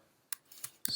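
Sparse clicks from typing on a computer keyboard, three or four separate keystrokes over a quiet background, close and fairly soft, with no speech.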